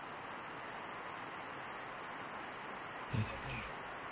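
Running water rushes in a constant, even hiss throughout, moderately loud, with a brief thud near the end and no clear talking.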